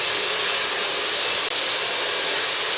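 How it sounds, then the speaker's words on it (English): A hair dryer fitted with a nozzle blows on long curly hair at close range, a loud, even rushing whoosh with a barely noticeable dip in the middle. "If you notice I have a nozzle on the hair dryer"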